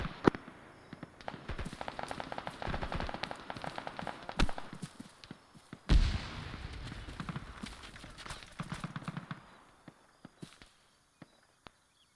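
A frag grenade goes off in a military shooter amid running footsteps and scattered gunfire, one sharp loud blast with rumble partway through, then isolated distant shots fading out.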